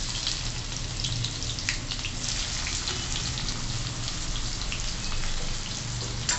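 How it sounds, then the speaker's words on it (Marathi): Chopped onion hits hot oil in a pan with cumin seeds, giving a steady, dense sizzle and crackle that holds evenly throughout at moderate loudness. "आता चिरलेला कांदा घालू।"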